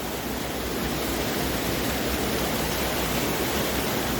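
A clean creek flowing close by, a loud, steady broadband rush of water that holds an even level throughout without any talk.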